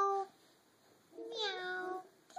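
A voice imitates a cat's meow: a short high mewing note, a pause, then a longer drawn-out meow, close and fairly quiet.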